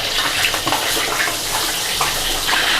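Cleaned pomfret fish is lowered into a wok of hot oil, giving a dense, steady, hissing sizzle that stays loud throughout with no talking.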